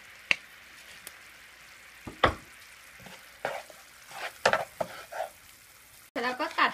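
Butter sizzles in a pan as cornflake caramel is being made, with a quiet crackle under scattered sharp clicks and scrapes of stirring, and a louder burst of frying near the end.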